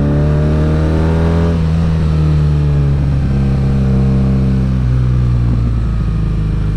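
A stock BMW R nineT motorcycle engine revs steadily and loudly up close, its tone rising and falling in a smooth, throaty drone with no talking over it.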